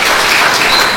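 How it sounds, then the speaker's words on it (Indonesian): A church congregation in Cimahi claps together in a brief, loud, close wash of applause that holds steady for about a second. "Tepuk tangan dong buat jemaat di Cimahi."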